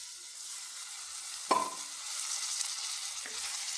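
Rice and onions fry in a pan for Kerala-style onion rice, with a steady hissing sizzle broken by one sharp spatula scrape and a softer stir later, close and alone.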